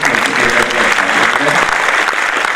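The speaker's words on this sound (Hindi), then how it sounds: "उनके लिए तालियों में कंजूसी नहीं रहनी चाहिए" A ceremony audience breaks into steady, loud applause for honourees at a flood-relief felicitation event, a dense continuous wash of clapping with some voices mixed in underneath.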